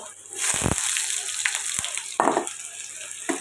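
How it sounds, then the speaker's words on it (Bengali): Potatoes fry in hot oil for a paneer dish. A few loud bursts of crackling sizzle rise and fade between quieter moments, close and short. "আলুটাকে সুন্দর করে আমি ভেজে নেব"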